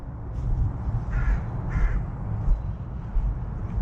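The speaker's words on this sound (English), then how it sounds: "Squawking bird." Crow in open woodland gives a few harsh caws, two distinct calls close together over a low rumble of wind and background noise.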